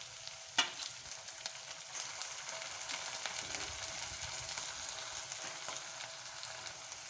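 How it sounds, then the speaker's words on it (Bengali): Ginger-garlic paste fries in hot oil with a dense, even sizzle throughout, broken early by one sharp clank of a spoon on the pan and light stirring scrapes. "আদা রসুনের পেস্টটা একটু ভাজা ভাজা মতো করে নেব"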